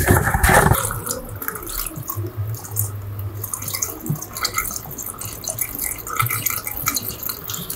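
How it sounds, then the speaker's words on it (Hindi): Water poured from a cut-off plastic bottle into a battery, a close splashing trickle that starts with a louder gush and then runs on unevenly with small drips and gurgles. "ये जो हमारे पास पानी है इस पानी को हम डालेंगे"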